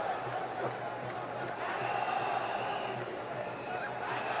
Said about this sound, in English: Crowd colourful, vibrant, noisy,